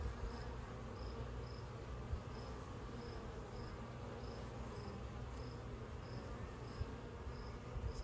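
Honey bees buzz around an open hive during an inspection, a soft, constant swarm drone close by, with no speech.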